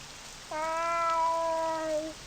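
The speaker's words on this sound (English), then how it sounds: "Is that a cat?" Cat meowing in the video game Blue Blood over soft rain: one long, clear, drawn-out meow of about a second and a half, close and prominent against the quiet patter.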